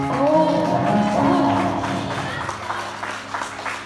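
Audience applause and crowd noise for a singer at a talent show, mixed with lingering tones and voices, with clapping growing in the later part.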